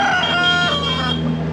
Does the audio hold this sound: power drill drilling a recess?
no